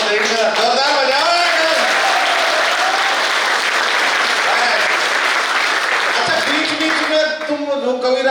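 Loud sustained applause from a large college audience fills the whole stretch, dense and continuous, with a voice talking over it at points.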